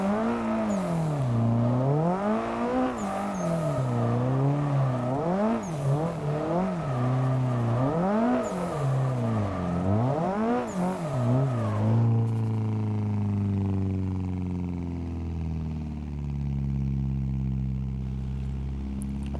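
A car engine revving in rising and falling waves while drifting in Assetto Corsa, loud and alone, its throttle swinging up and down for about twelve seconds before settling into a steadier, lower drone.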